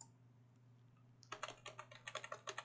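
Computer keyboard bracket keys pressed as a Photoshop brush-size shortcut: after a second of low hum, a rapid run of about a dozen close, crisp key clicks in uneven rhythm, with no talking.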